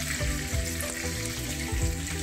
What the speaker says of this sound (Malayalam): ഞാനിപ്പോൾ കൊഞ്ചെല്ലാം വറുത്ത് കോരി